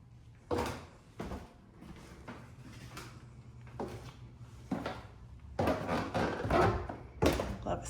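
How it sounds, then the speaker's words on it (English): Footsteps descending the main staircase of a rental house, a series of irregular thumps and creaks from wooden steps, fairly close, with a louder cluster of steps near the end. "Love squeaky steps."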